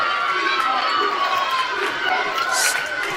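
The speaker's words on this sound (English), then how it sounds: "Crowd getting into it." A gymnasium crowd at a girls' high school basketball game cheers and roars steadily in a tie game late in the half, a loud continuous wash of voices with sneaker squeaks and shouts throughout.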